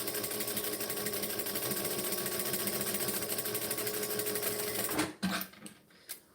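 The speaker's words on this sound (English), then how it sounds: "Make sure you always backstitch." Sewing machine backstitching a pouch, a steady fast mechanical whir that runs continuously for about five seconds, then stops abruptly and leaves a few faint clicks and handling noises.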